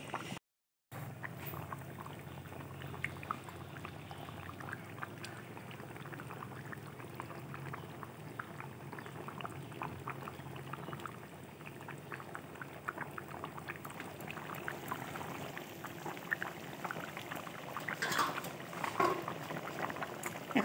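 A pot of moong dal with fish head simmers and bubbles at a quiet, steady boil in a kitchen, with a soft continuous bubbling texture and occasional small pops.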